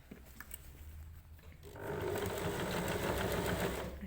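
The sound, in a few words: sewing machine stitching bag seam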